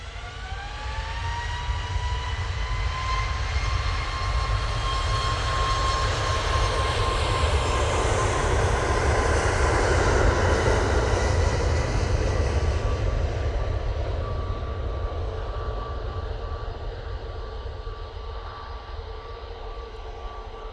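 An Air Transat airliner in FC Montreal livery roars past at Manchester Airport, its jet engines giving a loud, continuous broadband rush with a rising whine that slowly fades as the plane moves away.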